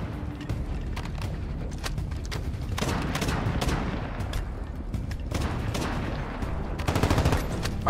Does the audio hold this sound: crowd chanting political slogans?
no